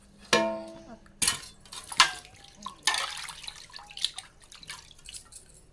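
Water splashes and drips while items are rinsed clean at a sink, with irregular close splashes, clinks and trickles spread across a few seconds.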